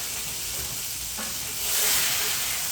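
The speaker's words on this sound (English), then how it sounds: "let my beef cook for just a second" Beef frying in a pan with avocado oil gives a steady, close sizzle that swells louder toward the end, with a soft stirring scrape partway through and no voices.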